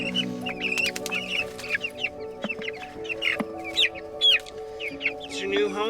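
Young meat chickens cluck and peep on open pasture, a steady chorus of close, overlapping calls with sharper chirps scattered throughout and no talking.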